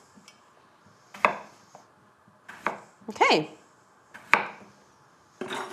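A knife chops through raw potatoes on a cutting board, trimming pieces to an even size. Six or seven sharp, separate chops land at irregular intervals, close and clear. A voice speaks one short word.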